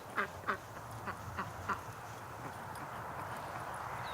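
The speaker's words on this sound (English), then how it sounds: "But there are ducks in my yard." Ducks quack in a yard: a short run of five or six clear, nasal quacks in the first two seconds, then the quacking stops and a steady outdoor hush remains.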